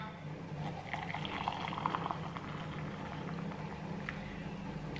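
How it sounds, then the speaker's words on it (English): Boiling water pours steadily into a cup, a soft continuous splashing trickle, close by and fairly quiet. "Boiling water."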